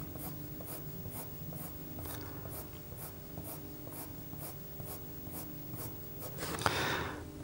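An HB graphite pencil shading on paper while drawing shiny hair, rapid rhythmic back-and-forth scratching strokes heard close up and alone, ending in a slightly louder brushing rustle.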